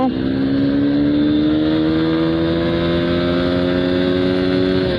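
A Honda X-Blade motorcycle accelerating in first gear, a loud close engine whine that climbs steadily in pitch throughout.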